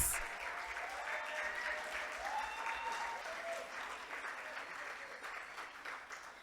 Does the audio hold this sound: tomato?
no